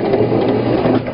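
A sewing machine runs in a brief, steady mechanical whir, backstitching at the end of a seam while a tote bag is sewn.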